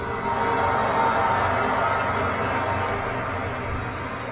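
Large crowd gathered for the new Pope Leo XIV, a dense roar of cheering and applause at a distance, steady and unbroken throughout.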